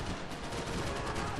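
Dense, continuous gunfire in the third-person shooter Max Payne 3, a loud unbroken burst of rapid shots filling the whole moment without pause.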